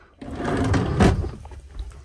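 A drawer in the kitchen area of a 2006 Roadtrek 210 Class B camper van slides open or shut with a short rumbling scrape and a soft knock, close and fairly loud, with no talk.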